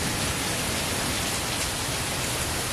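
Heavy rain pours down in a dense, constant wash of hiss at close range, unbroken and loud for the whole stretch, with no voices over it.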